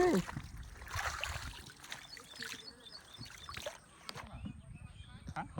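A wooden rowboat moves across water, with soft oar splashes and sloshing faint under nearby voices talking and calling out.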